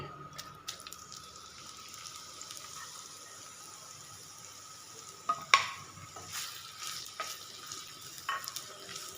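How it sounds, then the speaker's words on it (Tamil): Two large onions frying in oil for a chicken gravy give a faint, soft sizzle with occasional stirring clatters, quiet and close, with no talking. "இப்போ நான் தேவையான அளவுக்கு எண்ணெய் ஊற்றியிருக்கேங்க ரெண்டு பெரிய வெங்காயம் போட்டுக்கலாம்"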